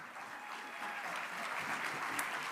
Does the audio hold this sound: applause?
yes